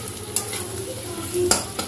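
Food sizzling in a pan while being stirred at close range, with a steady frying hiss and a couple of sharp scraping strokes, no talk.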